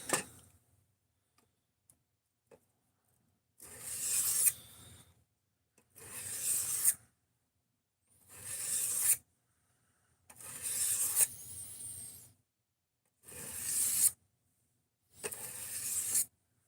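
A kitchen knife being rubbed along a sharpening block, heard as seven separate raspy scraping strokes of about a second each, evenly spaced with short silent gaps between them. The strokes are close and fairly loud, with no talk.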